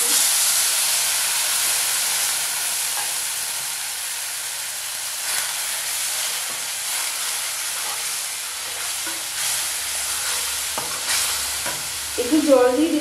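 Grated ginger and spices sautéing with a splash of water in a pan give a steady, close hiss and sizzle, with faint scrapes of stirring near the end and no voices.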